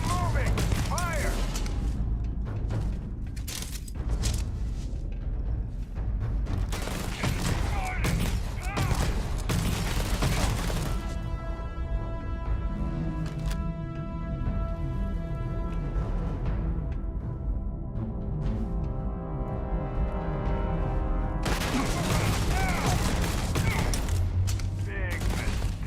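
Gunfire in the Starfield video game, dense and continuous shooting with booming impacts and mechanical clatter, loud throughout, with people talking over it.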